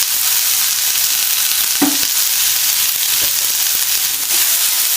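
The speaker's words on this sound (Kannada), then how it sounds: "ಎಲ್ಲ ಕೂಡ ಚೆನ್ನಾಗಿ ಫ್ರೈ ಆಗ್ತಿ." Mutton pepper fry masala with garam masala and chilli powder sizzles loudly and steadily in a pan, with a few soft stirring scrapes under the constant frying hiss.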